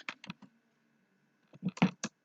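Someone types a search into Google on a computer keyboard, a few quick close key clicks, then a short pause and another burst of taps.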